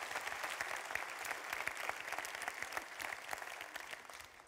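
A hall audience applauds entrepreneurs at the opening of a national awards ceremony, with sustained crisp clapping from many hands, fairly distant and even throughout.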